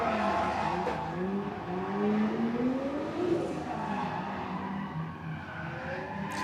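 Little Mazda Miata drift car at a live drifting event in Mexico, its tires squealing in long wavering, sliding tones over a continuous engine drone, loud and fairly close throughout.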